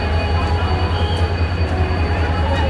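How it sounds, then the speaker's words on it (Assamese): A train standing at Kamakhya Junction station gives off a steady, loud low rumble with faint rail clatter, continuous throughout. "ট্ৰেইনখন ইয়াত ৰখিছে"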